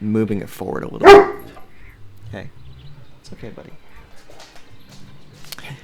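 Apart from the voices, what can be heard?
dogs barking in the background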